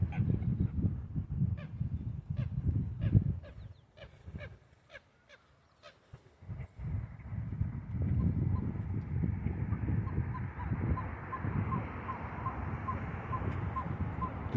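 Ducks on a pond: scattered quacks and honking calls from several birds, moderately near but soft, rising and falling over outdoor background noise, with brief quiet stretches and no talking.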